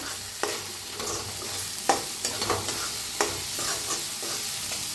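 Red chilli powder roasts with masala in a pan over low heat, a continuous soft sizzle broken by sharp scraping taps as a spoon stirs against the pan.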